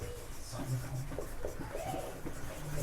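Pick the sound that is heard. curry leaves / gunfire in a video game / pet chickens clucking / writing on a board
writing on a board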